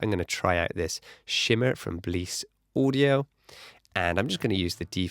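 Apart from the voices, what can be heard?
No everyday noises stand out.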